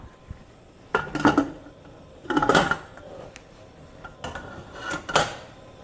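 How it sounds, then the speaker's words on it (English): A metal lid is fitted onto a pressure cooker holding rice, producing several close clanks and scraping metallic rattles in short bursts separated by brief quiet gaps, with no talking. "So we're going to add our lid, wait for it to come to pressure"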